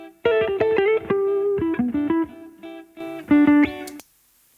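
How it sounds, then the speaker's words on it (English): A jazz guitar lick on a Telecaster, a quick run of clean picked single notes and short phrases, close and clear, ending in a brief higher flourish before stopping. "And then we've got the jazz lick that I asked him for."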